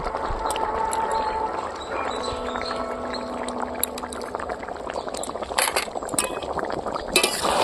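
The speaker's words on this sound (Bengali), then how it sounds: "জলটা দিয়ে দেবো" Water goes into a simmering Bengali raw banana, radish and red potato curry in the pan, with soft bubbling and scattered metallic clinks of a utensil against the pot, fairly faint throughout.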